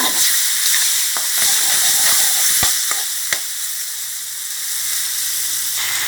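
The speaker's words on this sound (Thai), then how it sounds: "ปลาสากนะคะ ใส่ลงไปเลยค่ะ สองที่พร้อมเครื่องปรุงนะคะ จะผัดให้เข้ากัน" Pla sak fish pieces stir-fried with curry paste in a hot pan, with a steady loud sizzle throughout and several sharp clacks of a utensil scraping and stirring, no voices.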